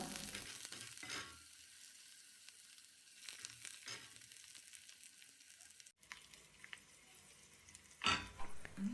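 Coriander and curry leaves hit browned shallots frying in oil for mutton curry, bringing soft sizzling bursts over a quiet background and a sharper spatter near the end.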